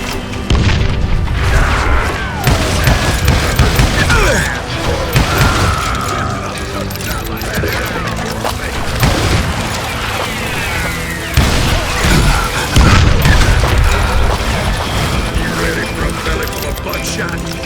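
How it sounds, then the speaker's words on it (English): Dynamite explosions in the Western shooter Call of Juarez Gunslinger, loud repeated booms and crashes mixed with clattering debris and gunfire, layered over game music and voices throughout. "You can't hide from dynamite!"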